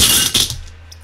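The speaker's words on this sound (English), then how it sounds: "It's the sound of M&M's you're not having." M&M's candies rattle in two quick, bright bursts close up, then fade to a low hum.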